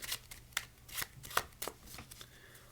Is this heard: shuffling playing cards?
yes